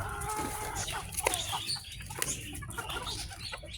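Gamefowl chickens, a 5K Sweater crossed with Golden Boy, clucking and calling at a game farm, with scattered bird sounds over steady outdoor background noise, moderately close.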